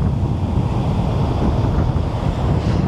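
Ocean waves wash on a Lagos beach in a continuous broad roar, with wind buffeting the microphone and no voices.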